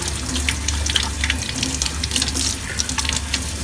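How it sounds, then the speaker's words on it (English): Tap water runs steadily into a sink as a paintbrush is rinsed clean under the stream, making a close, loud, continuous rush and splash with no voices. "Rinse it until it's very clean."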